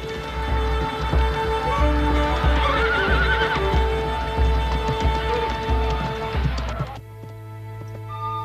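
Horses neigh and whinny loudly in Ireland, with clip-clop hooves and a busy layered bed of sound throughout, ending in a steady low drone after the final calls.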